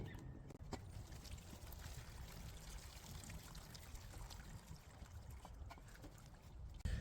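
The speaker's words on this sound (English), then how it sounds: "Now I'm gonna let this side down and drain it all down into that pan." Liquid from an old heater, being converted into a moonshine still, drains into a pan in a faint, steady trickle and pour that runs continuously with only a few soft knocks.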